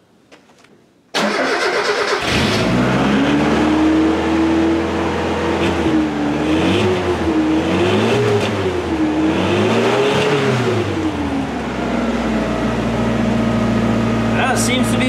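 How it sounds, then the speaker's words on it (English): A B2200 extended cab truck fitted with a replacement muffler taken from a junk car cranks and catches, then settles into a loud, steady idle with a few gentle rises and falls in revs, close by. "So now let's do a startup and see how this muffler sounds."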